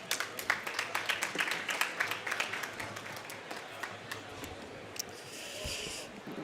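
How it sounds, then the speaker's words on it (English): An audience at a climate justice panel session in Baku gives a round of rapid, moderately loud clapping that fades out after a few seconds, with a light murmur remaining. "if everyone can give a round of applause to Dr. Iyad."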